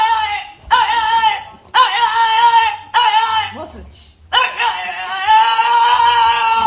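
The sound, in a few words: dog howling like a person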